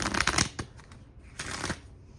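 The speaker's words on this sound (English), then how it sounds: "I'm going to shuffle these until I feel right." A deck of Gypsy Witch fortune-telling cards is shuffled by hand in a quick burst of riffling and flicking, then a softer second run of shuffling follows.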